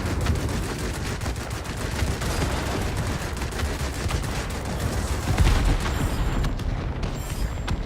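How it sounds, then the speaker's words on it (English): Rapid aircraft gunfire in the World of Warplanes combat flight game, a loud, continuous dense rattle of shots mixed with booming engine and battle noise throughout. "I'm getting my tail shot off because I can't get around the RB-17."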